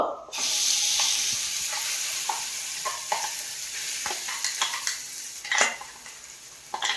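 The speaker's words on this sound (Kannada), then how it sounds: "ಇವಾಗ ಇದನ್ನು ಅಲ್ಲಿ ಟ್ರಾನ್ಸ್ಫರ್ ಮಾಡ್ಕೊಳ್ಳೋಣ ಎಣ್ಣೆಗೆ. ಸೊ ದೂರದಿಂದ ಹಾಕಿ ಬರುತ್ತೆ ಸೌಂಡು." A loud sizzle erupts as a paste hits hot oil, then settles into a steady fizzing hiss broken by scraping and stirring clicks.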